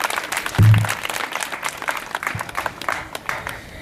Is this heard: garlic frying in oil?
no